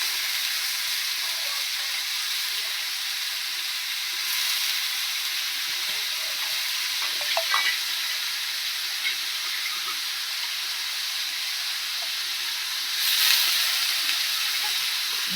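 Tomatoes frying in a pan for a rustic Gujarati eggplant dish, giving a steady soft sizzle that runs throughout with a few faint clicks and a brief louder hiss near the end.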